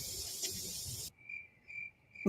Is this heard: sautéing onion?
no